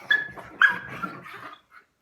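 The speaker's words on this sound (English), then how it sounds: "your dog is going to be flailing around and it's going to sound like they're in horrible pain" A frightened dog whimpers during a nail trim, giving two sharp, high whining yelps followed by a trailing whine that fades out, close and alone.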